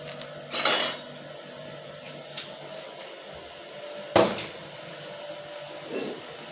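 Freshly washed metal pots and dishes are set down and stacked in a village kitchen, giving a few sharp clanks and clatters spaced seconds apart over a quiet room with a low steady hum.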